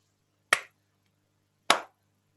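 Two sharp hand claps made to play a BBC micro:bit reaction game, spaced about a second apart, close and clear against a quiet background.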